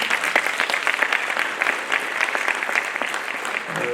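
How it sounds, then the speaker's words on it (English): An audience at a school matric awards ceremony claps steadily and densely throughout, a sustained round of applause from many hands at moderate distance. "can we give him a nice round of applause?"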